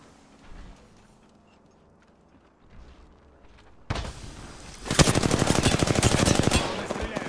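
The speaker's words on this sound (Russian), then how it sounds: "Клоуны стреляют по мне." Rapid gunfire rattles in Apex Legends, starting with a few scattered shots, then breaking into loud, dense automatic bursts of closely spaced shots that dominate the final seconds.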